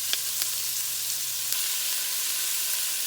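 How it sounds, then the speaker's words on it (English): Ground beef sizzles steadily in a pan for soup while it is broken into chunks, a soft continuous frying hiss with a few faint scraping taps. "start breaking up my ground beef"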